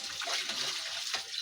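Water poured into a motorcycle tubeless tire makes a steady splashing, gurgling rush that stays fairly loud throughout, with no voices.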